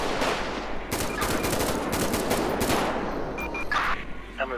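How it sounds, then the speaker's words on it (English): Dense, rapid bursts of automatic gunfire and overlapping shots fill a shootout in the video game GTA V with the LSPDFR police mod, loud and continuous throughout. "Oh, we got more shots fired."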